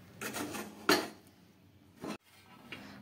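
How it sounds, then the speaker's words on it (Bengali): A spoon scrapes and knocks against a metal pan as a spicy pitha mixture is stirred, giving a few distinct clinks and scrapes with quieter gaps between them, close by. No one speaks. "এবারে সবগুলোকে আর একবার ভালোভাবে মিশিয়ে নিচ্ছি"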